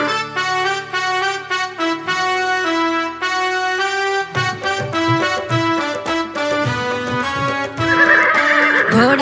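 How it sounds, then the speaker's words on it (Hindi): A horse neighs and whinnies with clip-clop galloping hooves, set within a bright, melodic Hindi nursery rhyme, the animal sounds mixed loudly over the music. "दौड़ा दौड़ा घोड़ा दौड़ा दुम उठा के दौड़ा"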